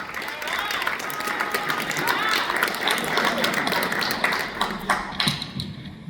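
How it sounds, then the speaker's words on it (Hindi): Live theatre audience at a Hindi drama performance applauds an actor with steady, fairly loud clapping that fills the space, mixed with crowd noise and a few thumps. "के लिए एक बार जोरदार ताली।"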